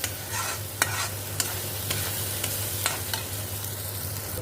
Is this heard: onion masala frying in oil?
yes